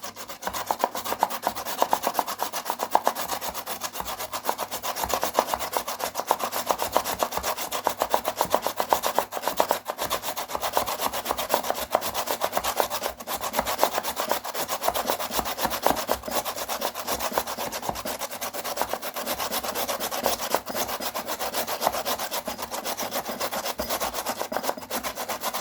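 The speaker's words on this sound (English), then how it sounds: "then we need to shred it like so or grate it" A peeled raw potato is grated against a metal grater in a continuous rapid rasping scrape, close and steady throughout with no pauses or talk.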